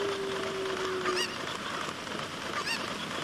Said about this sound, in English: These chickens are so loud.